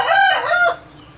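A Burmese fighting rooster gives a loud, close crow, with a short cluck at the end, heard alone in an outdoor backyard setting.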